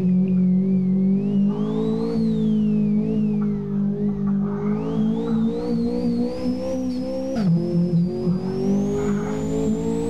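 A Lancia Integrale in the Live for Speed racing game gives a steady, loud engine drone that climbs in pitch as it accelerates along a narrow little road, with a brief dip near the end and a light tyre hiss.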